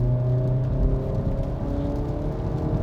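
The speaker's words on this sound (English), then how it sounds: "Did you hear the way I rolled into the throttle?" A car's engine hums steadily as the driver eases onto the throttle on a wet road, cornering at about 60. The close, even drone and whir builds slightly, with no talk.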